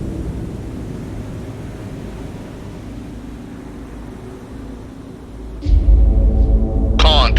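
A warship fires a vertical-launch missile in the Cold Waters naval combat game, a sudden loud roaring blast rising out of low engine and sea rumble, followed by sharp hissing bursts.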